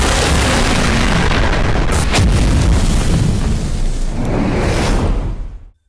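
Heavy gunfire and cannon fire from the anime Heavy Object amid a battle where transport ships are hit, a loud continuous barrage of booms and blasts that cuts off abruptly at the end.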